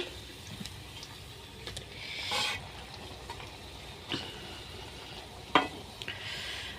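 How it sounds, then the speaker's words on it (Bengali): Jalebi coils fry in hot oil on a stovetop, a faint steady sizzle with occasional soft clatters as the pieces are turned, and one sharper knock toward the end. "চুলে আরও দুইটি জিলাপি দিয়ে দিয়েছি এখন উল্টাবো"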